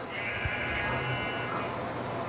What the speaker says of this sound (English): I do not like you sheep.